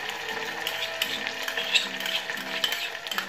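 Tomato juice hits hot vegetable and olive oil and sizzles in a pan. It makes a close, steady crackling hiss with a few light scraping stirs.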